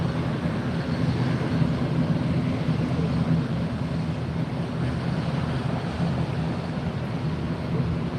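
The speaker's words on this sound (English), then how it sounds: "Latam coming in behind us. landing on the runway behind us." A LATAM jet airliner lands on the runway at Fort Lauderdale airport, heard as a steady, broad, distant roar that holds evenly without breaks.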